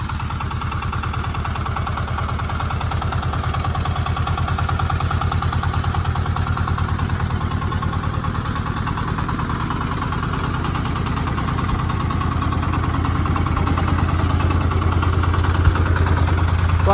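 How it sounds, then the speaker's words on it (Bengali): An ACI R-28 engine idles steadily and smoothly at close range, a loud, even mechanical hum with a regular pulsing rhythm that holds for the whole stretch and swells slightly near the end. "দেখুন এখনো ইঞ্জিনের সাউন্ড কতটুকু স্মুথ আছে।"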